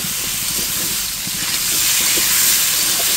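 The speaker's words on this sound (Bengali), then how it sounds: "এদিকে এক পাশে কড়াইতে আলুটা ভাজা দিয়ে দিয়েছি, আলুটা ভেজে নেব" Potatoes frying in oil in a wok with turmeric and salt give a loud, continuous sizzling hiss that swells slightly near the end, with no one talking.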